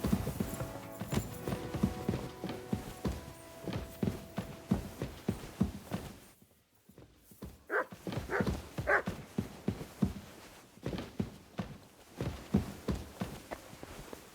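Rhythmic clip-clop of horse hooves at a steady walking pace in the video game Kingdom Come: Deliverance II, pausing briefly midway before resuming, with no speech.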